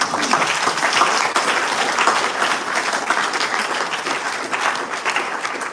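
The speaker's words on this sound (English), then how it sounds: "If we can give him a round of applause." An audience at a Rotary club meeting breaks into a round of applause, a full, sustained patter of many hands clapping evenly for several seconds without speech.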